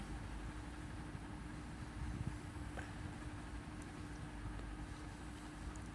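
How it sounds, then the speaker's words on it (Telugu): A steady low rumble drones on throughout, like a train rolling past at a distance, fairly faint with little change. "ట్రైన్ పోతుంది."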